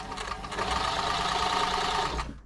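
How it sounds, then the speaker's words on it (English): A Toyota 2600 sewing machine runs steadily through thick fabric, its close, loud motor hum and rapid needle chatter continuous for a couple of seconds before winding down, with no talking. "Let's give it a sew. A bit more pressure because the fabric's quite thick."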